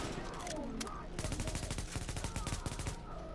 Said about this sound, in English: Holy shit, gunshots.